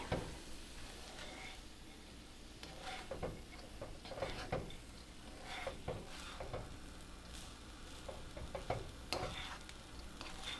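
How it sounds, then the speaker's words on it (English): Fried rice vegetables tossed with two spatulas in a hot pan, giving a steady sizzle with repeated scraping and clattering strokes throughout, no talking. "this is where I like to use 2 spatulas to actually shake off our veggies. Mixing it evenly"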